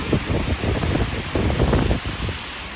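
Rain falls over Manhattan streets at night, a steady close hiss with soft irregular spatters and a touch of wind, no voices.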